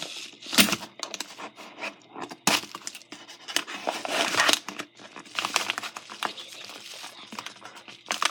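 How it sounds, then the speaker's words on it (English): Scissors snip and slice through a new book's packaging, with crinkling plastic and rustling close by in irregular bursts, sharp crackles standing out between the cuts. "handy dandy scissors."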